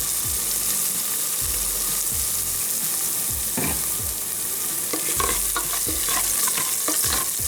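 Moong dal roasting in oil for pongal, with repeated scraping strokes of a spoon against the pan over a constant sizzle, close and steady, no voices.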